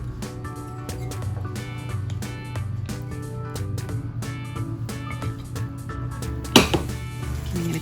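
A whisk clicks rapidly against a bowl while donut batter of egg and dry ingredients is mixed, a steady run of close, bright metallic taps with one louder clatter near the end; no talking.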